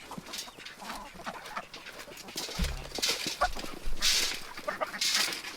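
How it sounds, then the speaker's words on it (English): Several hens clucking in short, scattered bursts at close range, with rustling and shuffling movement around them. "Chickens are coming."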